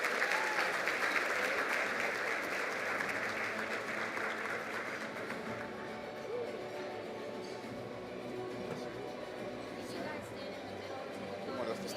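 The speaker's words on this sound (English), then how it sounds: "So give them a big round of applause." Audience at a Black public administrators forum gives the team a big round of applause, loud steady clapping that eases slightly while voices and crowd chatter mix in underneath.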